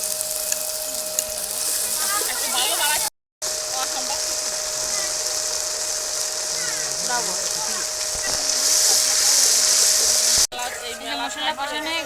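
Chili paste sizzling and frying in hot oil in a wok with onion, garlic and cumin paste, a steady loud broadband hiss with scraping stirs, briefly cut out, under occasional talk.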